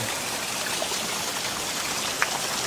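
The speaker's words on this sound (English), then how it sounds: "There's the old creek bed flowing again." Heavy rain pours steadily while a creek runs beside it during ex-tropical cyclone Debbie, a constant close wash of water with no break.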